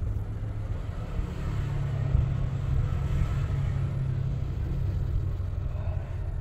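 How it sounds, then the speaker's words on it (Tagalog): Steady low engine rumble of motorcycles going by, a continuous drone that swells slightly in the middle without any distinct pass standing out. "marami pa ding mga motorsiklo na dumadaan"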